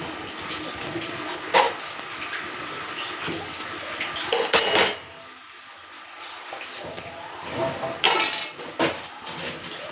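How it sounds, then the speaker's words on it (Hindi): Washed dishes and utensils clink and clatter against each other in water at home, a few sharp bright knocks and rattles spaced between quieter sloshing, close by. "यहाँ मैंने सारे बर्तन में धो कर इसमें रख रही थी"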